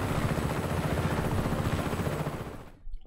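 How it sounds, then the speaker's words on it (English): A helicopter roars loudly and continuously in the video game Just Cause 3, a dense rotor-and-engine wash that cuts off abruptly near the end. "You can take this chopper"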